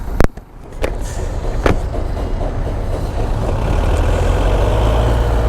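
Road traffic in a jam on the route from Shayestaganj toward Jaintiapur, with idling engines and trucks; a steady low rumble fills the scene after a couple of sharp knocks near the start.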